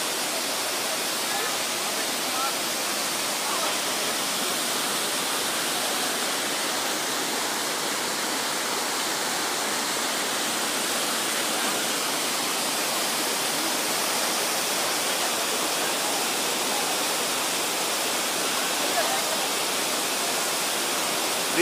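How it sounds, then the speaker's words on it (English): Neer Jhadi waterfall near Rishikesh pouring over rocks, a loud, constant broadband roar heard up close and unchanging for the whole stretch. "Beautiful Neer Jhadi waterfalls"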